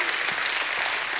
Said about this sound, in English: Give him a hand clap and a shout of praise.